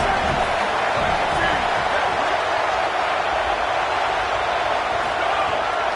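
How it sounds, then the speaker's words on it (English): A stadium crowd at an Ohio State football game roars in a dense, unbroken wash of noise, loud and constant throughout. "This crowd trying to make life miserable for this offense."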